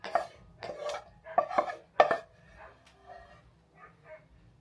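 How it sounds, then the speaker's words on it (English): A dog barks in several sharp, close bursts in a tiny home, followed by softer yips and whimpering as the excitement tapers off. "You hear that dog barking?"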